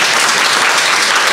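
Church congregation applauding its pastors during a Sunday service, a dense, loud wash of many hands clapping continuously, close and without talk.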